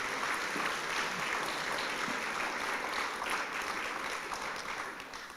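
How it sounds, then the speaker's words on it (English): A crowd at a service dog class graduation applauds in a dense, steady wash of clapping that holds for several seconds before easing off at the end. "how about just a big round of applause for my friend over there?"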